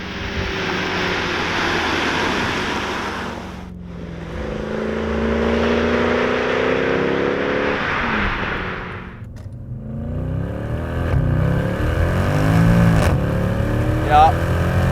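Mercedes C63 AMG 507 Edition with its 6.2L V8 roars loudly under throttle in sustained surges, the engine note rising and falling with a brief lift in between, while people talk over it inside the car.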